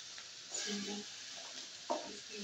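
Leafy greens and their small stalks hit a hot pan and sizzle steadily while a utensil stirs them in a home kitchen, the frying hiss continuous and quiet, with a couple of louder scrapes.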